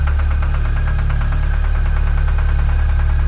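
A tractor engine runs steadily while plowing a field in a village, a loud, continuous low rumble with an even knocking pulse throughout and no voices.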